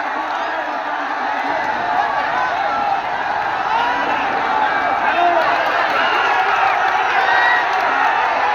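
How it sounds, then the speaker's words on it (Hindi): A big crowd at a Krishna Janmashtami wrestling dangal cheers and claps in a loud, continuous roar that swells slightly, with shouting voices mixed through the din. "तालियों से स्वागत किया जाए।"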